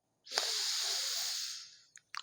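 A single deep breath during a guided breathing exercise, a long breathy hiss of air that swells in quickly, holds for over a second and then fades, followed by a couple of short soft breath sounds, close and quiet with no talk.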